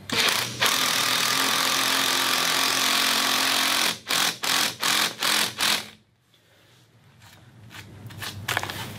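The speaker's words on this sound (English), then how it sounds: "on my impact driver, the socket, and so we'll go ahead and drive this in." An impact driver with a socket drives a concrete screw, a loud continuous buzzing whir for about four seconds, then five rapid hammering bursts before stopping, followed by quieter handling noise.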